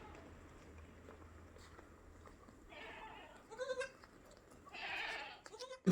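Large crossbred dairy goats, two nannies with three young males, give a few loud bleats in the second half. Quieter background noise comes before them, and a faint voice may be present.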